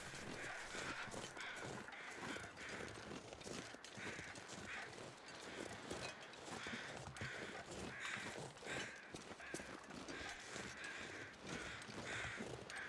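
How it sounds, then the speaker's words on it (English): Crows caw repeatedly in the snowy wilderness of the survival game The Long Dark, a faint, steady series of harsh calls spaced every second or so over a soft ambient bed. "Alright, I'm starting to hear crows."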